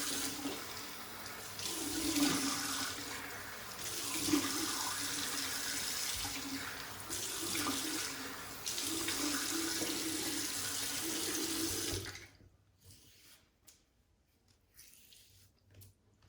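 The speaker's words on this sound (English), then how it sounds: "Let's rinse the face and we'll get into post." A tap runs steadily into a sink while someone rinses their face after a straight razor shave, the water gushing and splashing close by with small uneven bursts, then cut off abruptly near the end, leaving quiet drips.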